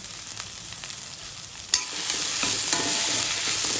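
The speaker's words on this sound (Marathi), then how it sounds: "आता हे छान हलवून घ्यायचं।" A cutlet vegetable mixture with coriander is stirred in a hot pan, giving a steady sizzle with scraping strokes and a sharp clatter partway through.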